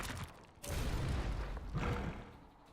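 An explosion in the video game Into the Breach lands as a muffled boom followed by a rumbling blast and a second deep surge, then fades. It sounds moderately faint overall.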